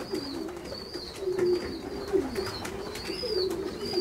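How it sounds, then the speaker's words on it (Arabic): Pigeons coo in a repeated, fairly close rhythm, with soft wing flutters among them as they come down to land, and high chirps sit over a steady outdoor background. "دابا الحمام بدا يفرفر بحال هكا يجي الآخر"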